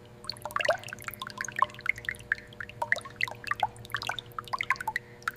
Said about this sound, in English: Now we introduce the fluids. Thick oil to coat the virgin internal metal.